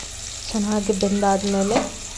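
Sliced onion sautés in a pan with garlic, giving a steady soft sizzle, briefly overlaid by a voiced humming tone.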